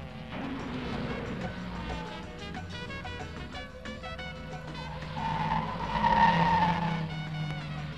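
Saloon cars race around a 3.8-mile circuit at up to 130 miles an hour, their engines droning and straining loudly and steadily, with a surge in the later seconds.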